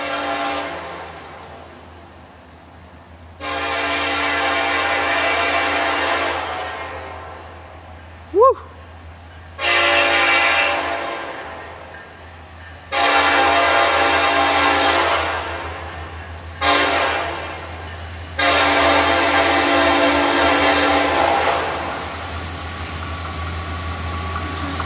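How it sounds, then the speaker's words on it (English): An FEC freight train locomotive sounds its horn at night in several long, loud blasts with short gaps between them, close by, over the steady rumble of the moving train. "Man, that's a loud horn tonight."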